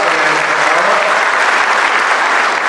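A crowd at a public beneficiaries' gathering in Ausa claps steadily and loudly, a dense, continuous wash of applause throughout with no pauses.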